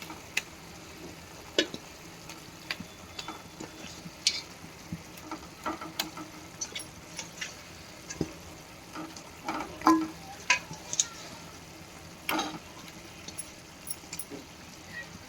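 Large chicken pieces go into a pot of boiling curd for a fried-chicken pulao: a quiet bubbling hiss underlies scattered sharp clacks and clinks of pieces and utensil against the pot, irregular and close.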